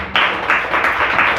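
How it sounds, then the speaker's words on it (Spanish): A church congregation bursts into loud applause after a sermon's call to praise, dense rhythmic clapping swelling in repeated waves close by, with no talk over it. "Denle un fuerte aplauso a Cristo Jesús."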